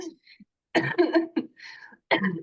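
Several harsh coughing bursts from a person with a cough, close and fairly loud, in an irregular cluster with short gaps between them.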